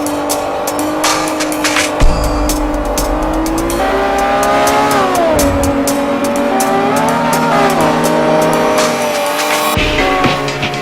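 Lamborghini Aventador in the Forza 4 racing game, its engine droning steadily with rising and falling revs and pitch sweeps, joined by tire squeal and skidding, loud and continuous throughout.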